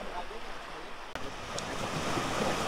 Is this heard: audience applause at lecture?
no